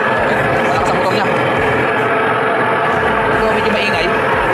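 A converted washing machine motor, changed from automatic to manual operation, runs with a loud, steady, close whirring drone throughout, while a voice speaks over it.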